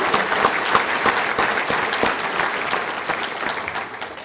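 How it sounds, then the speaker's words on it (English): A luncheon audience at a touchdown club gathering claps steadily in a dense, even burst of applause that fills the room. "let's give a round of applause to our great sponsors here today."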